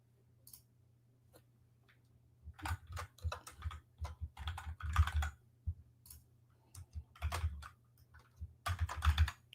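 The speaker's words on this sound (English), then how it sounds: "Sorry if you can hear me type." Bursts of computer keyboard typing, close and moderately loud, in uneven clusters of rapid keystrokes with short pauses between them over a low steady hum; no one speaks.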